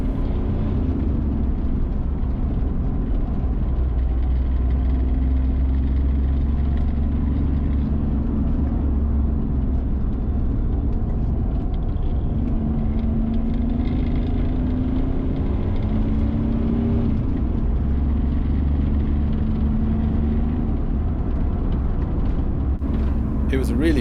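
A 1992 Daihatsu Charade with a 1 litre turbo diesel engine drives on the road and pulls through the gears, a steady loud engine drone with rising and falling pitch over the whole stretch.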